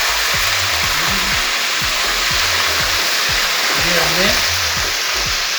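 Garlic and ginger paste sizzles steadily in a pan over low heat, a loud continuous frying hiss, while someone talks briefly over it.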